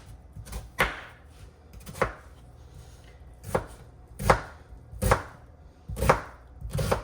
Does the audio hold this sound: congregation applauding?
no